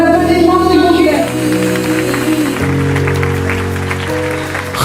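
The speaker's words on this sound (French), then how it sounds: "Vos applaudissements, s'il vous plaît." Audience applause at a gala in Paris, a broad wash of clapping rising over the tail of sung music and carrying on steadily for several seconds.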